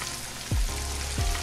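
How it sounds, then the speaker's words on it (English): Ribs frying in hot oil, a loud continuous sizzle and crackle close up, with brief low thuds as the meat shifts in the pan, no voices. "don't you love to hear that oil frying some good meat up?"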